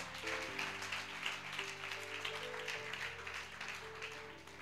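A church congregation claps and cheers in sustained applause, steady and moderately distant, with faint music or voices mixed underneath.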